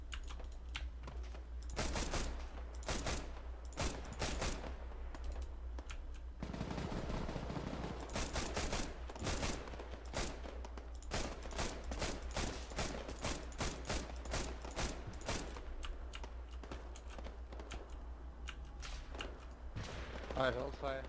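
Irregular bursts of ArmA 3 gunfire crack out as sharp, separate shots and short volleys, with keyboard clatter and people talking in the background.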